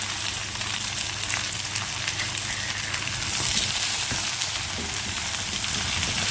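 Pumpkin pieces frying in a pan for a South Indian palya give a steady, loud, continuous sizzle close by, with faint scraping of stirring and no talk.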